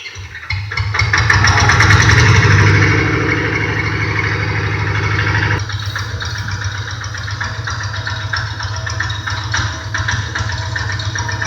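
A heavy tractor engine rumbles steadily, loud at first as it catches, then settling into an even, throbbing idle close by with no voices.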